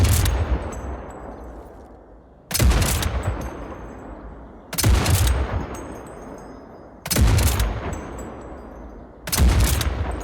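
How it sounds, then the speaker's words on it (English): Gunshots from large caliber weapons in the video game SCP: 5K: five loud booming shots spaced about two to three seconds apart, each with a sharp crack and a long rumbling tail, with no talk. "large caliber weapons having big booming shockwaves that will just make you shiver"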